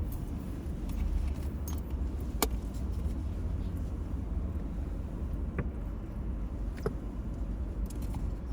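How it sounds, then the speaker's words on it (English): A bag and briefcase slide and knock around in the back of a moving car, giving sporadic clunks and rattles over steady road and wind rumble. "what's bouncing around there is my bag"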